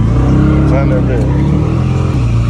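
A Dodge Challenger 392 Scat Pack's V8 rumbles loud and close with a steady deep revving drone, while people talk excitedly over it.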